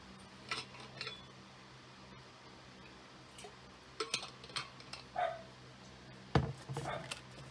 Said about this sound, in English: you can probably hear my dog barking now because he's probably reacting to me using that punch